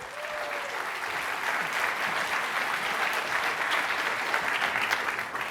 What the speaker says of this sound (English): OK, let's clap for Jordan.